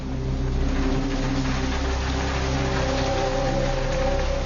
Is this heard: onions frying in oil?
no